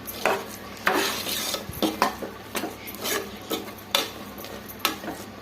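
Cooked rice and dal for sweet pongal being mashed in a metal pot, with repeated close scraping and clanking strokes about once a second and a steady background hiss.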